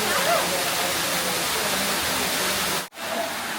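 Water rushes down steadily at Tirumala in a loud, unbroken broadband roar that fills the whole stretch, with one brief dropout near the end.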